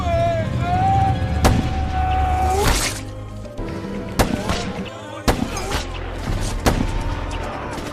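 A film shootout between snipers and rebels brings several sharp, loud gunshot cracks spread across the scene over a dense background of rumbling action sound.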